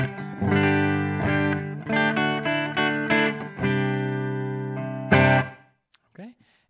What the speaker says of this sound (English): So my clean sound coming from the Fender going into the Captor X sounds like this.